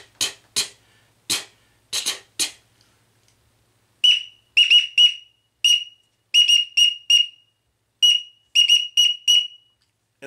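A green-winged teal duck call is blown in short, sharp, high peeps: a few single whistles first, then rapid clusters of three to five peeps with brief pauses between, close and alone.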